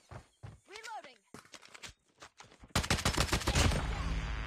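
KSP gunfire in a first-person shooter game, with sharp single shots giving way to a loud, rapid burst of automatic fire, heard under a player's voice calling out.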